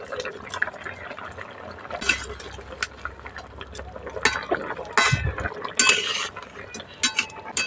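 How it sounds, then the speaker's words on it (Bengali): A thin vegetable curry with eggplant and lentil dumplings bubbles in a pot, the soft boiling mixed with utensil clinks and scraping knocks nearby, with no one speaking. "বেগুন বড়ি দিয়ে ঝোলের সঙ্গে 2 মিনিট খুব ভালো করে ফুটিয়ে নিয়েছি"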